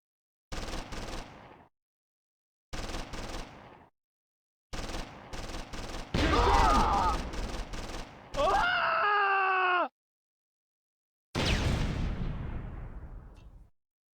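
Bursts of machine-gun and rifle fire from support units firing on Russian infantry in a Stalingrad apartment building in Close Combat 3, coming in short separate volleys with gaps of silence, plus a shouted voice clip and a final loud burst.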